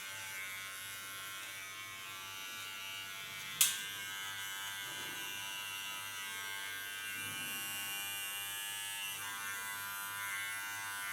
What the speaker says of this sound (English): Leaning on the side of my clipper blade